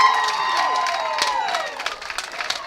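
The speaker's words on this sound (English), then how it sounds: "you can hear the reaction of the Rising Sun crowd on that one" Rising Sun home crowd at a girls' softball game cheering a 6-4-3 double play, a distant, moderately loud swell of cheers and scattered shouts under faint commentary talk.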